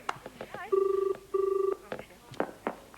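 Two electronic telephone rings, evenly spaced, with a person speaking softly before and after them.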